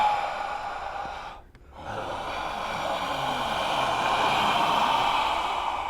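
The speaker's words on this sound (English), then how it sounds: "record all these inhalings and exhalings and turn that into a musical statement" Human breath recorded in a Foley room, a long airy exhale, a short pause, then a slow rising breathy inhale-like rush, close and fairly loud.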